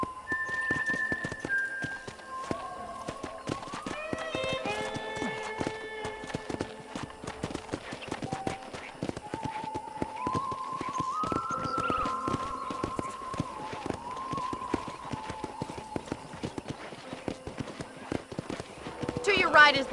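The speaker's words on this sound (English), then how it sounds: "let's see if you can still ride a horse" Rapid, steady hoofbeats of a galloping horse clatter throughout, with people talking over them, in the video game Red Dead Redemption.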